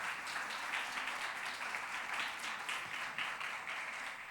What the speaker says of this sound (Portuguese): dê uma salva de palmas ao nosso Salvador Jesus Cristo